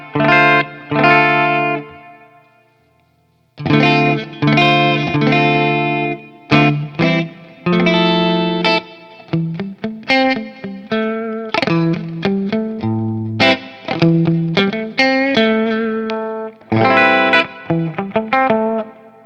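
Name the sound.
Squier Stratocaster electric guitar on bridge pickup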